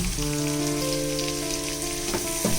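Onion, garlic, tomato and ginger fry in a pan for a prawn and jackfruit seed curry, making a dense, even sizzle like light rain with steady background hum and a couple of soft stirring knocks near the end.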